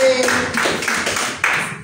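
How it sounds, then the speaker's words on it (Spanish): Audience clapping for fathers at a Father's Day celebration, a brief burst of steady group applause with a faint tone at the start and voices mixed in. "Venga, fuerte, fuerte, los aplausos ahí para los machitos."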